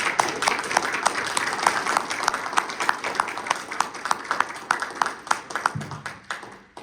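Audience at an academic seminar on multiscale composite materials applauds steadily, a dense stream of sharp individual claps that keeps a loose, even rhythm before thinning out and fading at the end.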